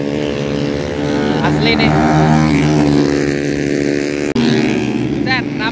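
Several standard motorcycles practising at a race circuit after rain, a continuous loud engine drone with rising and falling revs as bikes pass nearby, with someone talking over it.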